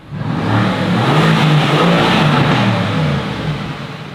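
A Mercedes-AMG GT sports car engine revs loudly and steadily, its deep growl rising and holding close by, then easing slightly at the end.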